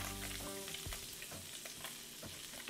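Butter and oil sizzle in a hot frying pan, giving a steady, quiet crackle and hiss with faint clinks as something is stirred. No voices.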